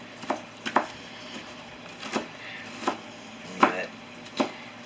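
A knife rough-chops a frozen pepper and onion blend on a board, giving about seven separate, unevenly spaced crisp chops. The chopping is close and fairly quiet, with no talk.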